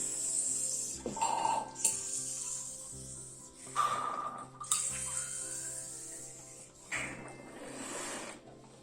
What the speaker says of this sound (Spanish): vamos a añadir un poquito de agua al detergente